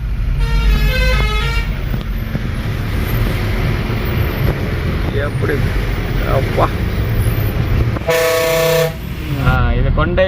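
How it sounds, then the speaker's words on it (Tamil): Heavy lorries rumble past steadily on a mountain hairpin road near Sathyamangalam, with engine drone and road noise, and loud multi-tone horns blare near the start and again near the end. "எவ்வளோ லாரி போகுது பாருங்கள்"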